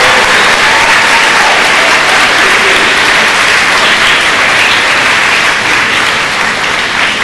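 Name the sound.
audience applause at school ceremony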